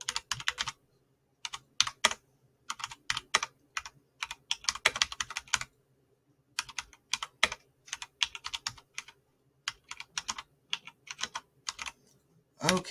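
Keys on a computer keyboard pecked with just two fingers, close clicking in irregular bursts broken by frequent short pauses, steady and alone with no voices.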